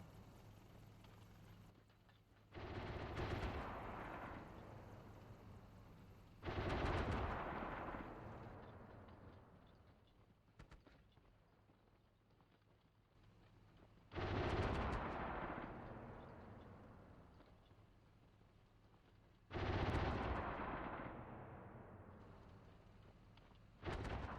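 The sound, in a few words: incoming gunfire on the tank in the video game Steel Beasts Pro PE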